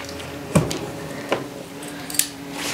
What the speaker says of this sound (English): And then we'll cut the tip of it off here.